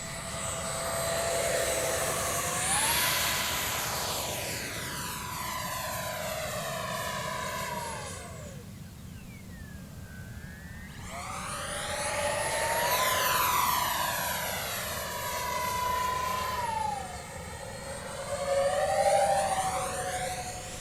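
An XFly F-18 Hornet radio-controlled jet with twin 40mm electric ducted fans makes two passes overhead, its high whining fan tone sweeping up as it approaches and dropping as it recedes, with a quieter gap between passes.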